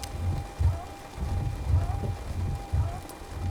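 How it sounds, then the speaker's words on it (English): Heavy storm rain pounds an airliner windshield in the flight simulator X-Plane 12, a steady dense hiss broken by regular low thumps, likely the windshield wipers sweeping. "Now because this is all the way set to storm, it is raining pretty hard"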